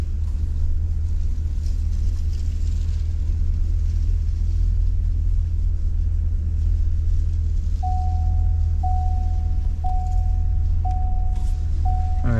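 A 2015 International Terrastar truck runs its salt spreader, giving a loud, steady low engine rumble throughout, with a short series of evenly spaced high beeps near the end.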